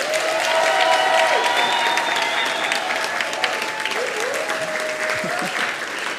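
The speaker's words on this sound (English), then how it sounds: "let us give the biggest applause and cheer for our graduating class of" Sustained, dense applause with cheering from a school audience for a primary school's graduating class of 2023, steady and loud throughout, with a few whistles or tones rising over the clapping.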